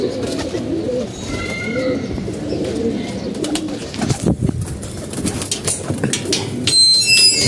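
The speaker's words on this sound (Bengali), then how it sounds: "কবুতরগুলো আমি এখানে রাখছি" Pigeons kept by a home keeper coo softly and repeatedly close by, with some rustling and a brief flutter in the background.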